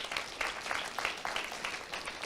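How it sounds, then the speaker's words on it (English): A city council installation ceremony crowd claps for fire and police officers, a moderate, rippling round of applause with uneven bursts of hand claps heard from a short distance. "A big round of applause for our fire and police officers"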